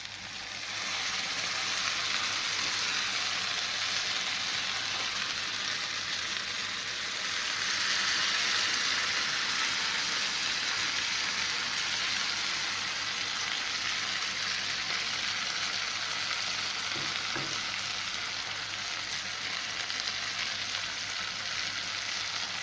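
Sauce poured onto a hot chicken sizzler plate, a soft continuous hiss that swells briefly midway and holds steady, fairly faint and with no talking.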